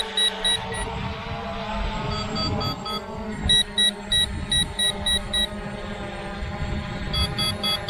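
Low-battery warning beeps from a Visuo K1 Pro drone: repeated bright electronic beeps in short pulsing bursts, clustered in groups and recurring across the span, fairly clear over a low background rumble.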